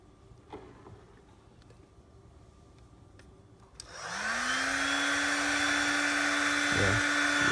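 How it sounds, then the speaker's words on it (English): A heat gun warming an iPhone charger switches on partway through after faint handling noises, its fan whining up to a loud, steady blowing roar that holds to the end. "Now we can try to use a heat gun."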